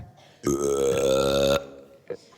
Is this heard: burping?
yes